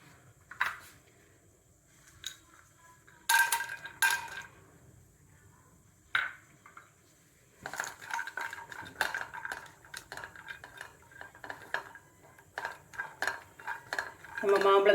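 A spoon clinks and scrapes against a kadai as cashews are stirred in a little ghee, with scattered metallic knocks and short bursts of rattling between quieter pauses.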